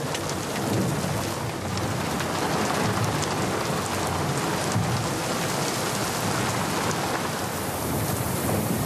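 Heavy rain pours down hard in a thunderstorm, a loud dense hiss of drops pounding surfaces, steady from start to finish.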